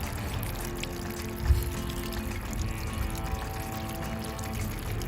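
Fuel runs out of the large tank on a 1946 Fairbanks-Morse hit-and-miss engine cart, a steady close trickle and pour with one soft thump near the start.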